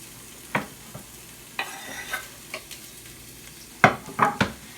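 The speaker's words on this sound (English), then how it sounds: "now I'm gonna let it cook till the onion gets a little bit golden, a little bit clear" Onion, pepper and carrots fry for borscht in a pan with a soft steady sizzle, broken by several sharp scraping stirs of a spoon close by.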